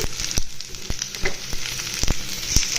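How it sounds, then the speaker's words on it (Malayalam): Sweet potato snack ingredients sautéing in a pan: close, bright frying sizzle punctuated by a series of quick sharp scraping strokes from stirring, no voices. "നമ്മളുടെ സാധനങ്ങളൊക്കെ ഇട്ട് ഒന്ന് വഴറ്റിയെടുക്കണം"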